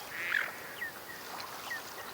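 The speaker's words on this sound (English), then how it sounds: "That's a flock of mallards." A flock of mallard ducks quacks outdoors, faint and distant, with a few scattered calls over soft background noise as the birds fly off.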